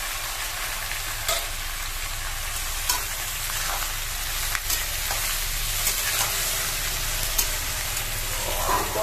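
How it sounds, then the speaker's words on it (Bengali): Tomatoes and raisins drop into a pan of spices frying in oil with mustard-seed tempering, giving a steady loud sizzle with occasional stirring scrapes and clicks throughout, no voices. "এবার আমি টমেটোগুলো দিয়ে দেবো। টমেটো আর কিশমিশগুলো দিয়ে দিলাম।"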